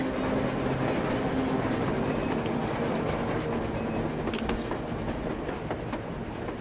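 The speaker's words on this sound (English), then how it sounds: "A train! A damn train on the surface!" A train rolling on rails in the video game Metro Exodus, a continuous heavy rumble with rattling carriages and faint wheel squeals, loud and steady throughout.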